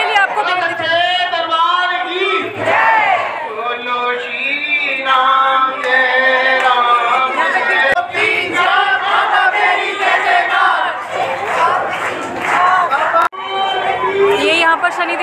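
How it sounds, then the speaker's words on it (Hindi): A dense crowd of devotees packs a Hindu temple that holds a Shani Dev shrine, with loud overlapping voices, shouts and chants in constant babble and someone speaking close over the throng. "देख सकते हैं आप भक्तों का कितना जमाड़ा यहाँ लगा हुआ है"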